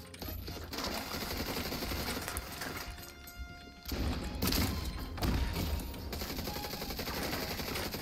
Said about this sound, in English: Why are you even shooting, Krabber